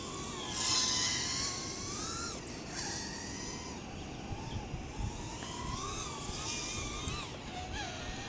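An iFlight iH3 3-inch FPV quadcopter drone flies with a high, buzzing motor whine that rises and falls in pitch as the throttle changes, heard fairly clearly without speech.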